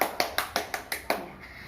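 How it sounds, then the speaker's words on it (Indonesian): A small group claps in a quick, steady rhythm, about seven sharp claps at a school orientation day for children, fairly close and not loud, ending in a brief fade. "Tepuk tangan dulu bersama-sama."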